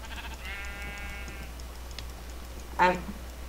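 A sheep bleats in the video game Minecraft: a single sustained, buzzy bleat, then a shorter second bleat, both moderately loud over steady low background hum.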